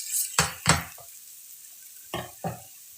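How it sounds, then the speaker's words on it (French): Butter dropped into a hot pan for grilled salmon gives a few short bursts of sizzle and stirring clatter, two close together at the start and two more later, with quiet between. "je vais venir mettre du beurre pour donner du goût à mon poisson"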